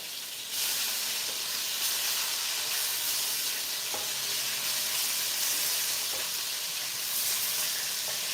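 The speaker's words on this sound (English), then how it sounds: "So I'm gonna cut this up and put it in to our frying pan here." Loud, constant sizzling of chicken pieces frying in a hot pan, a dense crackling hiss with a few faint clinks partway through.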